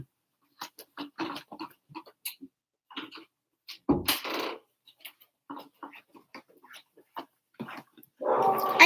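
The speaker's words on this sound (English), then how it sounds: "I have dogs and they bark." Several pet dogs bark faintly in scattered short bursts, with patter and small ticking noises around them and no talking.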